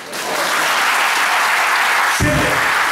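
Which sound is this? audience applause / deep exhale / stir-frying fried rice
audience applause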